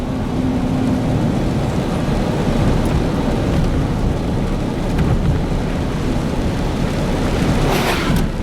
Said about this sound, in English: it's a rainy, misty day, that's for sure